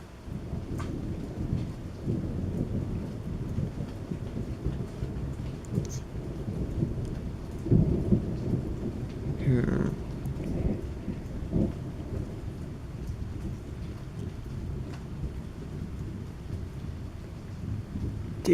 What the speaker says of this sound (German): Ihr könnt ja mal selbst sehen, wie weit das Gewitter weg ist.